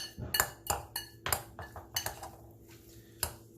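Tuna salad with eggs and vegetables being mixed in a bowl, a utensil knocking and clinking against the bowl in quick, uneven strokes, close and crisp.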